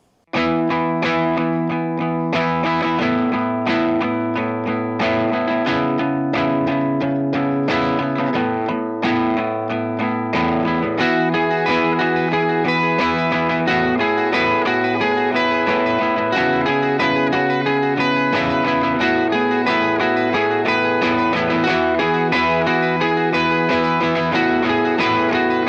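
An electric guitar runs through a Vox AC15 JMI cab with two Celestion Silver Bell speakers via a Torpedo Captor X, playing a continuous distorted, chorus-tinged riff loud and up close with no talking.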